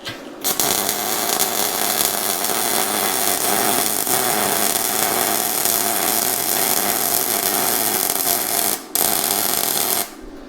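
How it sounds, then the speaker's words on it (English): A YesWelder YWM-211P double pulse MIG welder laying a bead on 3/16 inch steel, with a loud continuous crackling buzz that runs almost without a break for about ten seconds, pausing briefly near the end. "that made a pretty decent weld on this 3/16 inch steel"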